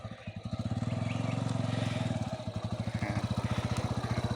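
A motorcycle engine idles close by with rapid regular chugging pulses that rise and settle as the clutch is eased out slowly, steady and fairly loud throughout.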